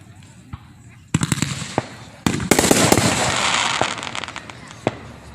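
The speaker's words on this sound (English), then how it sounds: "This is like the best view of fireworks show ever." July 4th fireworks show exploding, a rapid string of sharp bangs and crackles that builds into a dense barrage, loud and fairly close.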